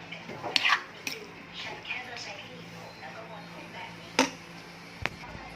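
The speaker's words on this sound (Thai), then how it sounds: "ตำตำให้เนื้อปลานั้นเข้ากับน้ำพริกเราเลยนะครับ" Grilled mackerel is pounded into Thai chili paste with a pestle in a mortar, giving a few sparse, sharp knocks and clinks at irregular intervals, quiet and close, with someone talking between them.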